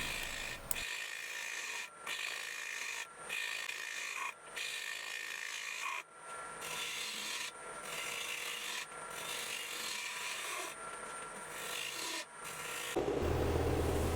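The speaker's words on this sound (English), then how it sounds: "I started sanding at 80 grit, and I went through all the grits clear up to 320" Steady rasping of sandpaper rubbing against a Norway maple bowl, continuous strokes broken by brief pauses at regular intervals, close and clear.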